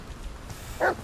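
A single short dog bark in the video game The Medium, loud and close against a quiet ambient background, arriving near the end.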